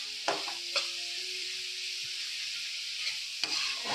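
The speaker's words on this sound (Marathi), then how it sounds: "हे बघा माझा आकाश कसा हलवतो बघा कांदा" Onion fries in a pan as it is stirred, giving a continuous high sizzle and a few sharp scrapes and knocks of the spoon, close by with no voices.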